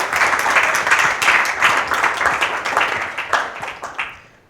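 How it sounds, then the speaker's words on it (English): An audience at a church service claps and cheers in a steady, dense wave of applause that swells, then fades out over the last second. "Can we get a cheer for True Father?"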